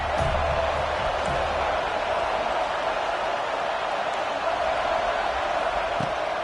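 A stadium crowd at a Michigan at Florida State college football game roars on a third down, a dense, steady wash of cheering that holds loud and unbroken throughout.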